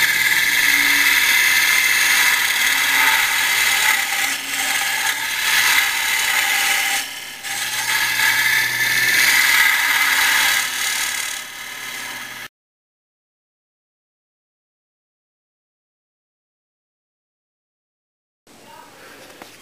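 A hollowing system rig cuts into wood with a loud, steady grinding and ratcheting clatter for about twelve seconds, then near silence before a brief return of noise at the end.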